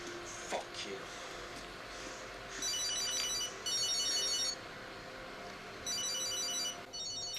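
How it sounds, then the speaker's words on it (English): A telephone ringing in repeated electronic trill bursts, three rings with pauses between, over a steady background hum and low murmur. "Don't answer that damn phone."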